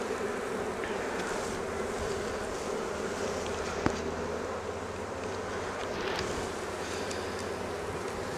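Honeybees buzzing around an open Flow Hive during a vertical split, a dense steady hum of many insects close by, with a faint knock partway through and no talk.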